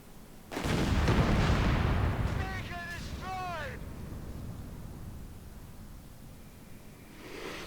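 A Panzer tank cannon in Company of Heroes 3 booms loudly, followed by a long rumbling roar and battlefield noise, while voices call out over the din.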